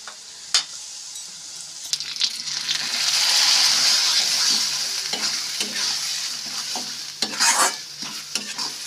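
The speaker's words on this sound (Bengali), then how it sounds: "জলীয় ভাবটা যতক্ষণ না শুকিয়ে যাচ্ছে ততক্ষণ এভাবে হাই হিটে নাড়াচাড়া করে নেব।" Mashed beans stirred and frying in a pan over high heat, with a steady sizzle and repeated scraping strokes of the spatula close by, no talking.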